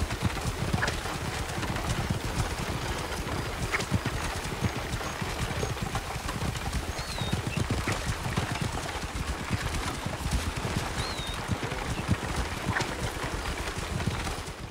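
Horses' hooves clip-clop in a quick, steady trotting rhythm, close and constant, in the video game Assassin's Creed Origins, over a soft background ambience of the open landscape.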